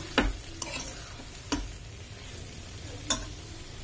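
Salt being stirred into a dhaba-style cauliflower and potato curry in a pan: four soft spoon knocks and scrapes against the metal, spaced about a second apart, over a faint steady sizzle.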